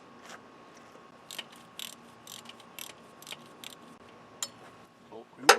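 A ratchet wrench with a 14 mm socket loosening the bolt on the neutral switch bracket of a Subaru, giving a series of quick, close mechanical clicks in short runs, with faint room noise between them.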